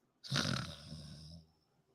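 A man mimics a loud snore with his voice, one long rasping, nasal snort that rattles for about a second, close and alone with no other talk.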